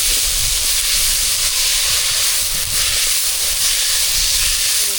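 Banana flower sautés in hot oil: a loud, continuous hiss of frying that stays steady throughout, close up and without talking.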